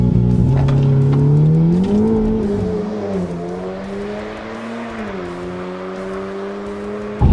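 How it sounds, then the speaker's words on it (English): A tuned four-wheel-drive Volkswagen Golf R launches hard, its engine note climbing steadily through the revs as it accelerates, loud and close from inside, with no talking. "So, that's what it launches like."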